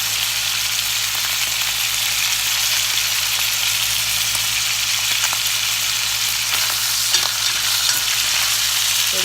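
Loud, unbroken sizzle of beef short ribs browning in a pan, steady and close for several seconds, with faint clinks of utensils and no talking.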